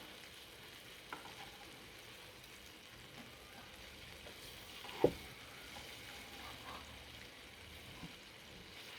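Tandoori chicken pieces cook in a pan with a faint, constant sizzle, as a single soft clink of turning the pieces sounds midway and a few quieter taps follow.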